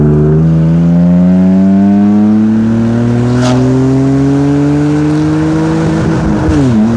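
A 600 hp drift car's engine roars loud and close, its pitch climbing steadily under hard acceleration before a quick shift dips the note near the end.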